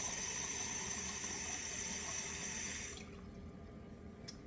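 Warm water runs steadily from a kitchen tap, measured out for pita dough, a close broadband gush that cuts off after about three seconds, leaving a faint drip and quiet room tone.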